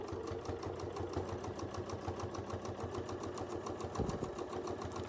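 A sewing machine stitching a four-petal quilting design, running in a fast, steady mechanical rhythm of needle strokes with a low motor hum, close and uninterrupted, with a brief thump near the end.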